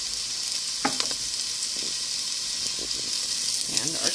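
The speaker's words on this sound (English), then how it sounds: "we're going to start our garlic sauteing. And with that, we're going to add in our onions" Garlic, onions and serrano peppers sizzle steadily in a hot pan, a constant frying hiss with occasional stirring scrapes and clinks; a faint voice briefly murmurs in the background.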